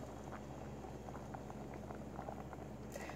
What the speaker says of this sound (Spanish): el agua ya está hirviendo y hirviendo